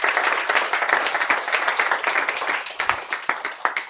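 Short round of audience clapping at the end of a university talk on Lego Serious Play, a modest group's claps sounding fairly close, choppy and uneven, without speech.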